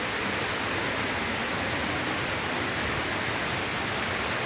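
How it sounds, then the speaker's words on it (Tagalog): Hulugan Falls pours in a continuous loud rush of broadband water noise, steady and close with no breaks. "Hulugan Falls."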